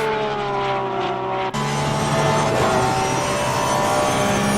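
Engine of a Porsche race car on an onboard lap around Circuit Zandvoort in Assetto Corsa Competizione, a loud steady engine tone that holds and then shifts pitch abruptly partway through, with no talking.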